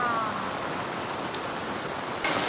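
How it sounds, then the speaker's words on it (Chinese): Heavy rain pours down outdoors in a dense, unbroken hiss that stays loud and even throughout, with a slightly stronger splash near the end; no voices. "大雨哗哗下。"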